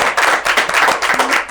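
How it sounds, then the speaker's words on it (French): Studio audience on a TV talk show bursts into loud, dense clapping that surges and dips in quick waves, close and continuous with no voices over it. "On applaudit très fort pour tous nos fidèles téléspectateurs de Kai"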